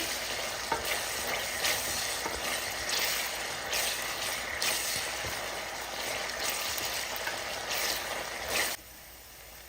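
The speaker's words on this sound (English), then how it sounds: "Continue stirring until the ginger and garlic is well blended in." Ginger and garlic sizzling in a hot pan for Durban prawn curry, a steady frying hiss broken by regular scraping strokes of stirring, close and continuous before cutting off abruptly near the end.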